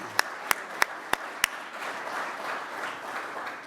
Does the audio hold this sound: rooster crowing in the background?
no